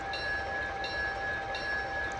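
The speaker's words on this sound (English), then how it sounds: "So I slowed the coal mine tram down quite a bit" A garden-railway model coal mine tram runs slowly with a steady electric whine and faint rolling hum, continuous and close.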